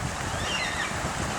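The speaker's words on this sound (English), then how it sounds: "The rushing water there" Stream of rushing water passing through pipes beneath a road crossing by a small pond, steady broadband wash mixed with wind noise, continuous and fairly close.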